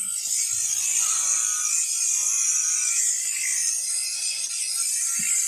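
Electric shears buzz steadily and close while a sheep is shorn on a shearing stand, a continuous high mechanical whine with faint rubbing and clipping textures underneath and no talking.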